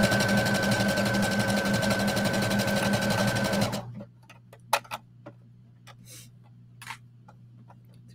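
A sewing machine stitches a stretch stitch around a tunic hem with a three-eighth-inch seam allowance, running loud and steady for about four seconds before stopping, followed by a few faint handling clicks and taps.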